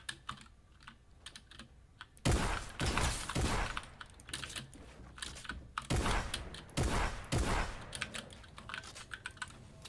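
Gunfire in the Fortnite video game, rapid bursts of shots heard through game audio, mixed with dense clattering keyboard typing close by, loud bursts around mid-clip and lighter clicks elsewhere.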